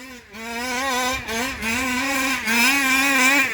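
Small engine fitted with a ported ESP championship 30.5 head revs hard and close, its deep throaty note rising and dipping in steady waves with brief throttle lifts between.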